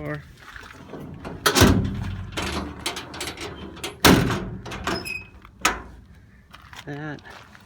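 Door of a 2002 Ford F350 truck being worked and shut, several sharp clunks and latch clicks spaced out over a few seconds, with someone talking quietly between them.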